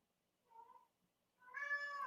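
A domestic cat meows twice indoors, a short soft call followed after a pause by a longer, louder, rising meow, close and otherwise quiet.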